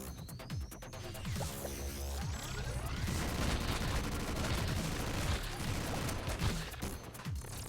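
Grenade blasts and heavy gunfire fill the Super Mutant Alien Assault action game on Vita, a dense, loud barrage of explosions and rapid shots that runs continuously with no talking.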